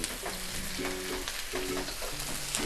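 Onion, spring onion, chilli and capsicum frying on high flame for a honey chilli potato starter, a dense continuous sizzle with several short scraping stirs across the pan.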